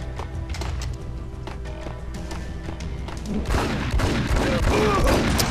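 Desert Eagle pistol shots in the Max Payne game, several sharp reports going off amid busy in-game noise, growing louder and denser in the final couple of seconds.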